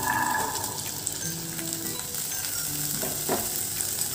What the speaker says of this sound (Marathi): चणे देखील आपल्याला छान तेलामध्ये परतून घ्यायचे आहे